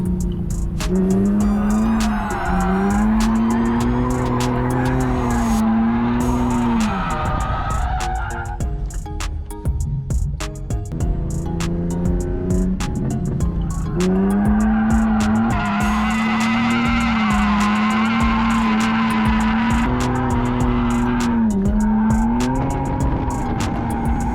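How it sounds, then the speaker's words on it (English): A street car drifting on a track gives a loud, sustained wailing tire squeal with a rising and falling engine note. It drops away briefly midway, then returns just as strong, with no talking. "we did quite a bit of spinning in the first session, but we get a few drifts in and link a few things together"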